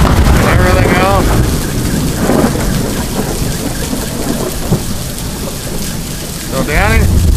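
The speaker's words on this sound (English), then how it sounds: "You think we got enough hail and everything else?" A heavy rain and hail storm pounds a surface in a constant loud roar, with thunder rumbling underneath and a few whistling tones in the mix.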